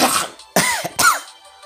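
A few harsh, raspy coughs from a girl in an anime, in quick succession, close and fairly loud, each burst short and breathy with a brief pause between.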